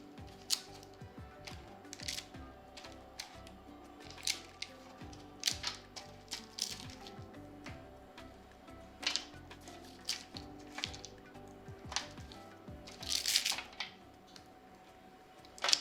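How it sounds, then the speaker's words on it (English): Chocolate-coated coffee beans picked one by one off parchment paper: soft crinkles, small taps and papery peels sound in an irregular string of close, quiet clicks, with no speech. "start picking them out one by one to remove them from the parchment"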